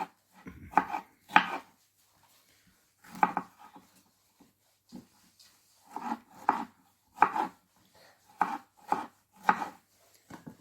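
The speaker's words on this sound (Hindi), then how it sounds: "ये ऐसे हम स्ट्रॉबेरी को छोटे छोटे पीसों में काट देंगे।" Strawberries being chopped into small pieces with a knife on a cutting board in a home kitchen, a series of soft, close, irregular knife strikes in bursts with short pauses between.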